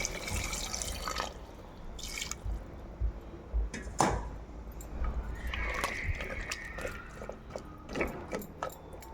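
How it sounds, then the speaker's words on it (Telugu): Hot water poured into goat curry masala that is frying in a pot: splashing and sizzling with clinks of utensils, fairly close, for several seconds, with no talk. "సో ఇప్పుడు ఇట్లా వేగే టైంలో హాట్ వాటర్ పోసేయాలి కొన్ని."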